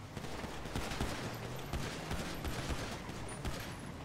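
Sustained gunfire aimed at a truck's tires in the GTA 5 video game, a dense continuous rattle of shots at moderate loudness with low engine rumble beneath.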